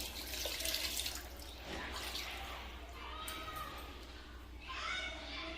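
Water pours steadily and fairly softly into a pressure cooker of mutton keema, a continuous splashing rush that swells slightly near the end.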